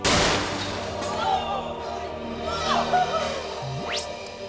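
A pneumatic grappling hook cannon fires at 2,000 PSI: a sharp, loud blast at the start, followed by hissing, rattling and a rising whine, with faint voices in the background.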